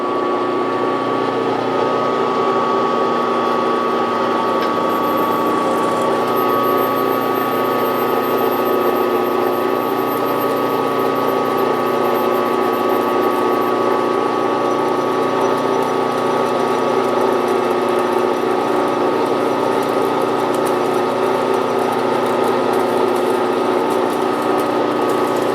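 A small five-cylinder model radial engine runs steadily at low speed, around 800 RPM, giving a continuous, even drone with a constant, unvarying tone throughout and no voices.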